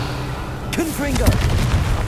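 A Confringo blast spell fires in Hogwarts Legacy, a booming, explosive impact with crackling tail heard near and loud over game background, with a brief voiced cast alongside.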